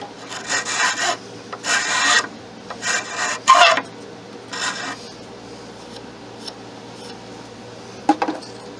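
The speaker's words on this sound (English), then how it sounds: "Now I'm going to go back to shaping a little bit on that handle." A rasp or file scrapes in short, uneven strokes across a wooden kitchen utensil handle as it is shaped, several close passes followed by quieter pauses and a sharp knock near the end, with no talking.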